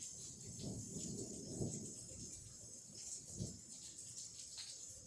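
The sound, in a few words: thunder from a slow-moving storm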